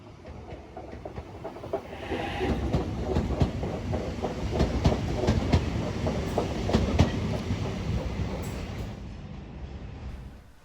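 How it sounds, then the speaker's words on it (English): An NSW TrainLink train pulls away from the platform at Newcastle Interchange, wheels clicking rhythmically over points and crossovers as it snakes between lines, with a steady hiss and rumble building then easing as it departs. "Notice how this train snakes its way from the platform 3 line over the down line and then onto the up line."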